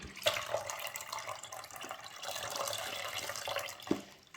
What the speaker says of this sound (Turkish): bir litre sütümü boşalttım arkadaşlar